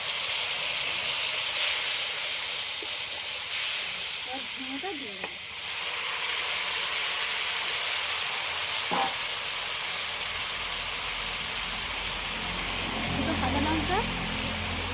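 Radhuni spice paste goes into poppy seed paste frying in a pan, producing a continuous loud sizzle and hiss with occasional stirring scrapes and a voice speaking briefly over the cooking.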